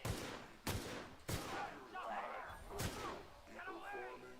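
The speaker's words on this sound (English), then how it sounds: "Just gotta fucking fire from the doorway." Sci-fi gunfire in The Outer Worlds video game, with four loud, sharp shots spaced about a second apart and dull game sounds filling the gaps between them.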